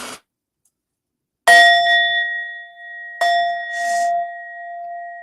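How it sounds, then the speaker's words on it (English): An Indian metal singing bowl is struck twice. Each strike gives a bright clang that rings on as a sustained, shimmering tone, with a soft brush of sound between the two strikes. "And it's really beautiful Indian bowl."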